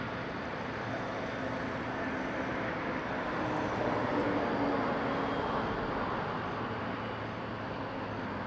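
A Porter Airlines plane taking off from Toronto Pearson on its departure to Calgary gives a continuous broad engine roar that swells slightly near the middle. No one speaks.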